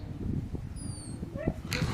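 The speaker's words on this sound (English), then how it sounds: "he heard a dog-like whimper behind the trees" A dog-like whimper from behind trees, faint high whining and yips surfacing over a noisy outdoor background, heard at a distance.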